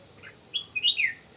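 A bird chirps several short, high tweets in quick succession, fairly close against quiet background noise in a garden setting.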